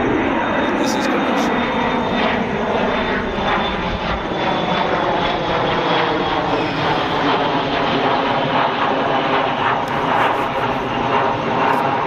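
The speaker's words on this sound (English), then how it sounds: "Good thing about these airplanes when they come through, at least we still got the scenery" An airplane passes overhead with a loud, sustained engine roar that holds steady and fills the background, while a person talks over it.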